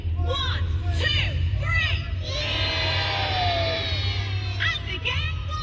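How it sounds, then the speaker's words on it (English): Spectators at Warwick Castle's trebuchet show cheer on the wheel winders, with loud bursts of shouting and cheering, many children's voices among them, over a steady outdoor crowd bed. "Let's give our winders some encouragement. After 3, give them a big cheer."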